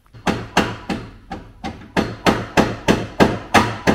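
Hammer strikes on a Ford Fiesta ST engine cradle being knocked into alignment: about a dozen sharp metallic blows in steady rhythm, close and loud, with no talking.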